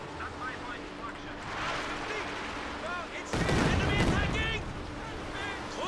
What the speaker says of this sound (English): Katusha Barrage draining on in, but largely missed again.